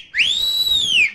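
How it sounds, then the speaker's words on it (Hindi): A police whistle gives one sustained, shrill, steady blast lasting about a second, loud and close with no talking. "बजा के दिखाएंगे आपने कैसी कैसी सिटियां भेजी हैं जांच के लिए"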